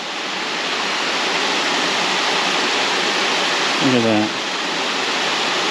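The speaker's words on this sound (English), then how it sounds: "they've got several ways to channel the water" Water rushing steadily through stone channels feeding an old grist mill at Stone Mountain, Georgia, a loud continuous roar with a brief voice breaking through near the end.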